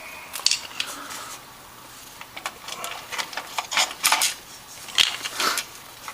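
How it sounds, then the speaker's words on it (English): Screws being driven into a PC motherboard during a computer build, a close run of small metallic clicks, scrapes and ticks in irregular bursts, with no talking. "put the screws in."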